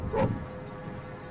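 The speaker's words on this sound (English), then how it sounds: "before Nora could get hold of Baxter, he ran towards the woods again and began barking" A single short dog bark or yip sounds near the start, followed by quiet background.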